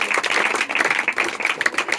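A church congregation welcomes a guest with a brisk round of applause, dense rapid clapping from many hands filling the space at close range.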